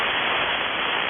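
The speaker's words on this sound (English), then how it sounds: "All that noise you hear out there, people tuning up." Amateur radio band noise from stations tuning up, a dense hiss of static that runs loud and steady without a break, with no voices.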